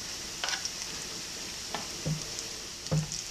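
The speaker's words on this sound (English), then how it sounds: "now I'm going to put the spring onions in" Spring onions sizzle in caramel sauce in a hot pan, a steady close frying hiss broken by a few brief stirring scrapes and clinks, with no talking.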